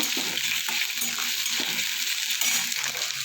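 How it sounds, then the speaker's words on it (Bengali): Potato pieces frying in a pan for an aloo bhindi dish give a steady, close hiss of sizzling oil. Light scraping strokes from stirring come through on top, with no talking. "আলুটা আমি একটু লাল করে ভেজে নেব"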